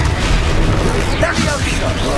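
Confringo blasting spell exploding in a Wizarding World video game, a loud, close, continuous burst of booming, crackling blast noise over about two seconds, with voices calling out through it.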